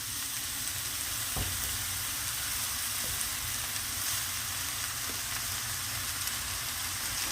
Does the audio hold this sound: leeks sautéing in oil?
yes